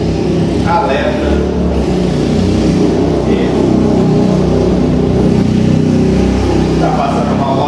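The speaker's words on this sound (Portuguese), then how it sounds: "Tá passando uma moto aí." A motorcycle engine rumbles and revs as it passes nearby, a loud, steady mid-pitched drone against outdoor traffic noise.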